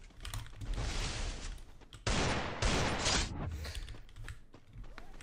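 Bursts of video game gunfire alternate with clicky reload and mechanism sounds, forming loud clustered volleys with brief gaps between them.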